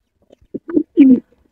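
Giribaz pigeons cooing close by, a few short soft coos followed by a longer throaty one, alone without talk.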